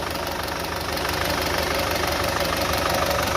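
A car engine idles steadily with a dense mid-range rumble and faint knocking, close and continuous, before a carbon cleaning on a car brought in for pickup trouble and heavy pollution.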